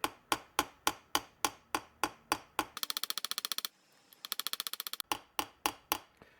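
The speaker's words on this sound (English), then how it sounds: "Now I'm just going to peen them with a ball peen hammer." Ball peen hammer lightly peening the pins of a lockback folding knife, sharp metallic taps in a steady rhythm that break into two rapid rattling bursts before the even strikes resume, close and clear with no talk.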